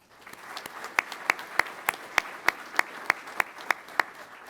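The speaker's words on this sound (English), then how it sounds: "So please, if we could give them a round of applause too." Applause for support staff at a military pilot training graduation ceremony, heard as a steady run of distinct, evenly spaced claps, fairly clean and moderately loud.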